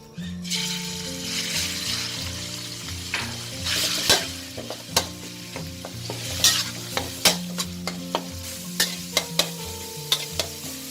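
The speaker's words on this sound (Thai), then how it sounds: "ตั้งกระทะค่ะ แล้วใส่น้ำมันลงไป เล็กน้อยพอนะ ไม่ต้องเยอะค่ะ แล้วใส่หมูสับไปผัดค่ะ" Minced pork sizzling in a lightly oiled hot pan while a spatula scrapes and stirs it in repeated sharp strokes, loud and close, with a steady frying hiss underneath.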